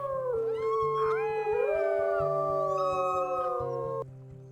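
A wolf in WolfQuest Tracker's Tale gives a long, loud, wavering howl with several voices overlapping, over a rhythmic low pulsing game backdrop, cutting off abruptly near the end.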